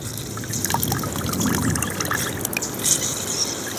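Sour orange juice is squeezed by hand into a juice mixture, giving a close, continuous liquid trickle and patter with small drips throughout.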